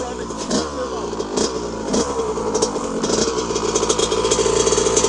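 A 1982 Honda CR125R two-stroke dirt bike runs and revs while warming up on a ride, its engine note rising and falling close by, with some wind or voice-like noise mixed in.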